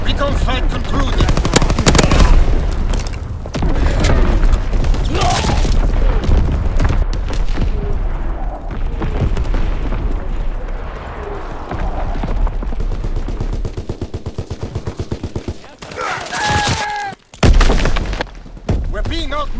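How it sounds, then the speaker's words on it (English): Primary battery guns in Call of Duty WWII fire in loud heavy booms mixed with rapid machine-gun bursts, thinning out toward the end with sharp final blasts, while a voice talks intermittently. "Firing primary battery."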